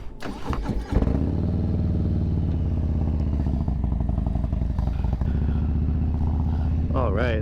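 A 2022 Harley-Davidson FXLRS motorcycle engine starts and settles into a loud, throbbing rumble right up close, steady for several seconds before revving as the test ride begins.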